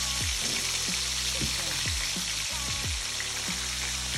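Food frying in bacon grease, with a steady close hiss and crackle and repeated low knocks or thuds throughout, no voices.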